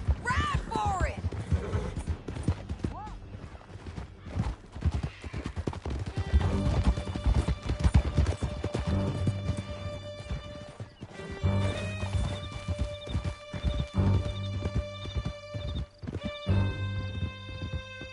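Horses galloping in the Western video game Red Dead Redemption 2, a rapid clattering hoofbeat rhythm mixed with whinnies, crashes and gunfire-like bursts, with voices and music over it.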